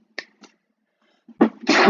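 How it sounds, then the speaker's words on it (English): A single sharp sneeze bursts out after a couple of faint soft sounds, close and loud against near silence. "Sorry guys, I had to sneeze."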